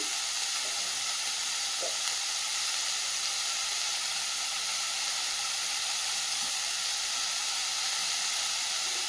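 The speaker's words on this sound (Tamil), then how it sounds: "வெங்காயம் தக்காளி வதங்குற அளவுக்கு கொஞ்சமாக சால்ட் ஆட் பண்ணிக்கலாம்" Onion and tomato sautéing in a pan for a Nethili karuvadu (dried anchovy) fry, a steady even sizzle and hiss throughout with a faint stir or two, no talk.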